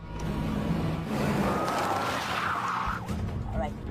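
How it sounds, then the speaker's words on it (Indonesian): A van in a film speeds up and skids to a stop, a sustained tire squeal over a loud engine rumble lasting a few seconds before sliding down and fading, with background music. "Setelah mobil van itu berhenti, anak buah Marshal mencoba menanyai SIM dan"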